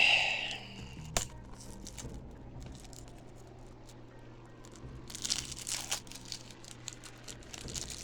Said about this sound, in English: So let's go ahead and unwrap it.